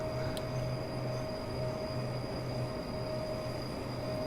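An intercity train in Train Simulator 2015 running along the line, a steady low rumble with rhythmic rolling wheel noise and a constant electrical hum, even and moderately quiet.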